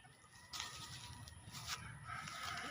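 Young roosters (stags) crowing in a small, cramped chicken pen, a couple of harsh crow bursts rising over steady background farmyard noise.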